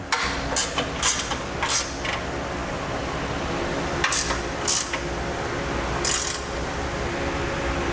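A ratchet snugs down trailer hitch bolts on a 2017 Jeep Wrangler Unlimited, a Curt receiver mount: short bursts of quick clicking, several in a row then a pause, nearby over a low steady background hum.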